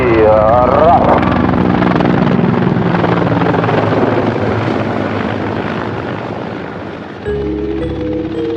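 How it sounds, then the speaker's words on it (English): Mi-24 combat helicopters fly an aerobatic display. A loud, continuous rotor and turbine roar carries over a voice speaking near the start, then steadies, with a new low tonal hum coming in near the end. "It performs on the Mi-24 combat helicopters."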